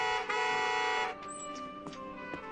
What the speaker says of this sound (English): What are you honking for?